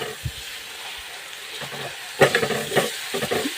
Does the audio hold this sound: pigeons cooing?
no